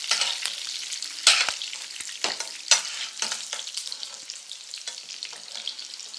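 Steak sizzles and fries loudly in a hot pan, a continuous crackling hiss with sharp bursts from basting, close and unbroken, with no voices over it.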